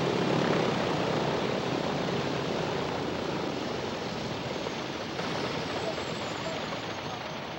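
A propeller plane's engine drones as a steady, broadband roar at an airstrip runway, constant and fairly loud with no breaks, fading slightly toward the end.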